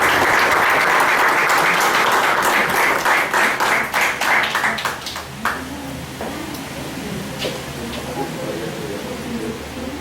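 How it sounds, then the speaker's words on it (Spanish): A loud burst of audience applause at a university law lecture event, dense clapping that fades out after about five seconds into room murmur and faint voices. "No queda más que brindar un fuerte aplauso nuevamente"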